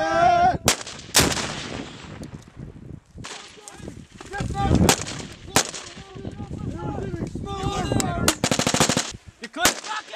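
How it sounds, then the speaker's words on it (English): Bursts of medium machine gun fire ring out during a military live-fire exercise, with loud sharp volleys and scattered single shots across the stretch, interspersed with heavier booming reports and outdoor rumble. "Fire from a medium machine gun"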